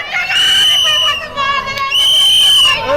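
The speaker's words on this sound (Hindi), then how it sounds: "तो आप सुन रहे हैं, लोग भागो भागो के साथ साथ सीटी बजा रहे हैं।" People blow shrill whistles and shout in alarm as a cloudburst flood sweeps through a village in India, with several overlapping whistle tones and raised voices filling the scene continuously.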